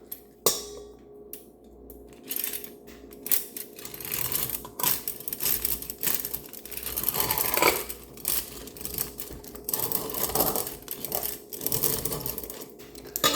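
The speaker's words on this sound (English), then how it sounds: "I'm gonna cream my butter into my saucepan. And I'm gonna do this with a hand mixer." An electric hand mixer whirs as it creams butter in a saucepan, a close, continuous motor drone broken by clattering scrapes and knocks against the pan.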